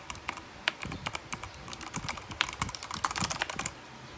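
Mechanical keyboard, a Rakk Ilis with PBT keycaps and Outemu red switches, typed on steadily and close up, a dense run of clacky keystrokes with no speech.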